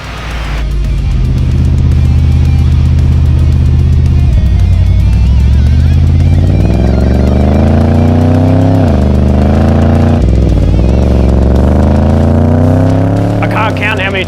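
A supercharged DART427 V8 in a VE SS making just over 600 wheel horsepower revs on a dyno, a loud, close engine roar climbing steadily in pitch with brief dips between pulls before a final high-rev scream.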